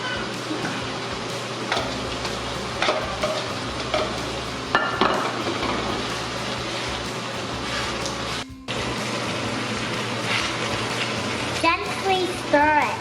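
Onion sizzling and being stirred in a frying pan while a young boy cooks a minced pork and tofu dish, a steady dense frying hiss with scraping stir strokes, and a voice speaking over it.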